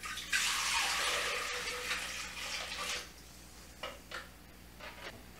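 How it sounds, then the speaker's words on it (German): Water pours from a jug into a Thermomix mixing bowl, a steady splashing rush for about three seconds before it tapers off, followed by a few faint clinks and small knocks. "Dann kommt euer Wasser in den Mixtopf."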